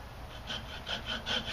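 A hand saw cuts relief cuts into wood while making a strop, rhythmic back-and-forth rasping strokes growing slightly louder, close up with no talking.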